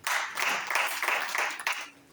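Congregation in a church service clapping together in a steady, rhythmic beat, several claps per second, fairly near and loud, with no talk over it.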